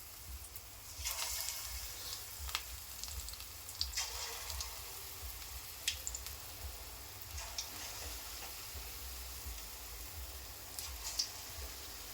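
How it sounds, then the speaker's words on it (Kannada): Wheat flour bajji fritters frying in hot oil, a faint, continuous bubbling sizzle with scattered sharp crackles and pops, heard close and alone without talk. "ಎಣ್ಣೆ ಬಿಸಿ ಆಗೈತ್ರಿ ಒಂದೊಂದ ಬಿಟ್ಕೊಂಡ್ರಿ ಎಣ್ಣೆ ಒಳಗೆ ರೀ"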